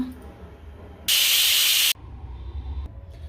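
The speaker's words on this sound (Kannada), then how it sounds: "ಎರಡು ವಿಸಲ್ ಬಂದರೆ ಸಾಕು" A pressure cooker cooking potato and pea curry lets out one loud hissing whistle of steam lasting under a second, close by, between quieter kitchen background noise.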